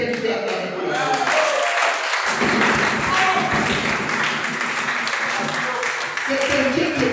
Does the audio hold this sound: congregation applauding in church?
yes